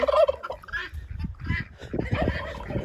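A turkey gobbles loudly and close by in a farmyard among newly bought hens, its rapid rattling calls repeating in quick bursts over about three seconds.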